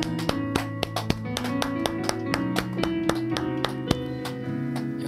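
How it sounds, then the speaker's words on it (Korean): A church congregation claps together in a steady rhythm in thanks to God, the sharp regular claps set over sustained keyboard chords. "우리 하나님께 감사의 박수 올리겠습니다."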